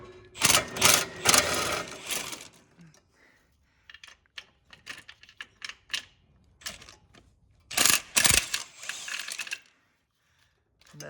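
Ratcheting wrench clicks and mechanical rattling while loosening transmission bolts on a 1937 Chevy, several close bursts of rapid clicking separated by short pauses.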